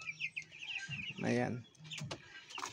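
Broiler chickens around 17 days old cluck and chirp in their pen, a close mix of soft clucks and higher peeps, with a brief spoken word from a person partway through.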